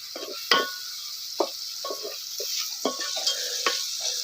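A homemade onion-garlic masala is stirred and fried with leftover mutton for a village-style biryani, a quiet sizzle broken by repeated spoon scrapes and knocks against the pan, with no talking.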